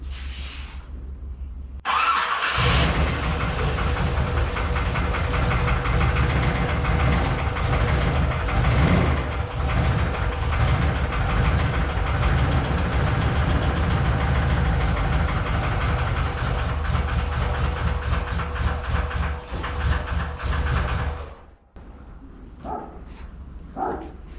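A 1981 Corvette engine idles steadily and fairly loud for about twenty seconds, its rough lifters ticking above the low rumble, before it shuts off abruptly near the end.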